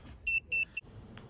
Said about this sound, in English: So the scanner is beeping right now.